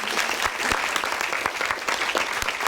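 An audience in an amphitheatre applauds a visiting bishop from Butare, Rwanda, with steady, dense clapping that carries through the short stretch at a constant level.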